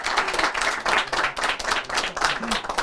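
A crowd at the Karacakurt Turkmen festival in Mucur, Kırşehir claps in a loud, continuous wash of applause, with rhythmic swells and a faint voice now and then beneath it.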